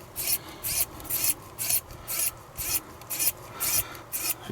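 A cheap, worn screwdriver turns screws during assembly of an Xbox One X, giving about ten short, evenly spaced rasping scrapes, close and fairly quiet, with no voices.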